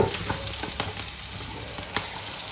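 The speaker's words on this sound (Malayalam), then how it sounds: "താളിപ്പാണ്ട് മുളക് ഒന്ന് നല്ലോണം വാടിയിട്ട് ഒന്ന് മൂത്ത് വരിക" Chillies fried in oil for a tempering, a loud, dense, steady sizzle close by, with a few sharp crackles and pops scattered through it.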